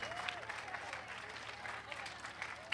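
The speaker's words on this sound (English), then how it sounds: "Another round of applause for Nihonmachi Little Friends." Faint audience applause rings out for the Nihonmachi Little Friends at a Japantown community celebration, a soft steady patter of clapping heard at a distance while a voice talks over it.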